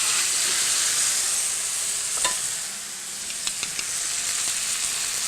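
Steak coated in mustard laid into a hot oiled pan, a loud steady sizzle and hiss from the searing meat, broken by a few sharp pops and crackles.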